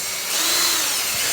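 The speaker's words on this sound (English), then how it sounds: "So if you can have someone else hold that into place and then drill." A power drill bores mounting holes on a Polaris RZR, a short close whirring whine that rises slightly in pitch and holds, with no talk.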